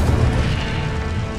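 An Incendio fire spell is cast in the video game Hogwarts Legacy, a short, loud burst of flame with a heavy booming low end and a roaring whoosh that eases off slightly within about a second.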